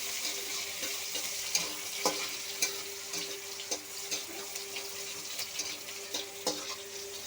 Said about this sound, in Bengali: পেস্ট একটু ভেজে নেব।